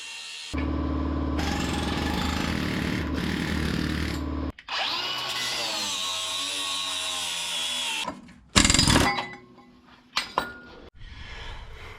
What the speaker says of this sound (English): we have to cut all your factory brackets off